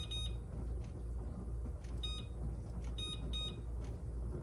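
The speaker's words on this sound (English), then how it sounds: "Put your timer on, 10 minutes." Kitchen timer being set while orange marmalade simmers on the stove, a series of short, high electronic beeps in irregular clusters over a steady low background hum.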